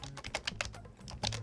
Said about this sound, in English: you can hear the typing of the keys on the keyboard